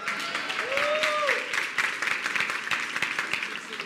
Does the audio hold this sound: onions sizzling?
no